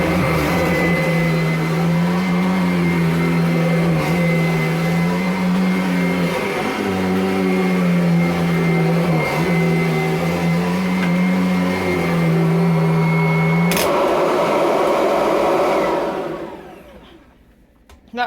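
A 2017 Kirby Avalir upright vacuum cleaner runs on carpet with a steady, loud motor whine and droning hum that wavers slightly as it is pushed and pulled, then spins down toward the end.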